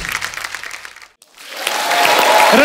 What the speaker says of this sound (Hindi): रणवीर और आलिया के लिए जोरदार तालियां